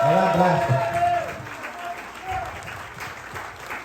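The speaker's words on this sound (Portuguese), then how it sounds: "E eu queria até mais salva de palmas para ela" Crowd applause at a 60th birthday party, sustained and moderately loud, fading slightly over time while someone talks over it at the start.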